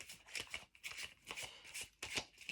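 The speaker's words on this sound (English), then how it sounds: "let me shuffle this deck" A tarot card deck is shuffled by hand in repeated crisp bursts of riffling and sliding cards, close and fairly loud, broken by brief pauses, with no talking.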